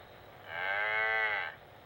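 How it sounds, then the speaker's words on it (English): A single long, loud cow moo rises and holds for about a second before fading, with no other sounds around it. "The cow says."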